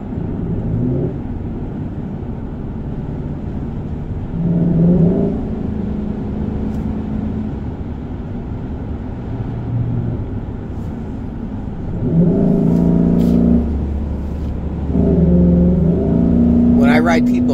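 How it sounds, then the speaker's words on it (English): A supercharged Chevrolet Suburban engine drones steadily while driving, swelling louder in a few pulls of acceleration, heard from inside the vehicle with brief speech between surges. "The supercharger, and you can just hear it going."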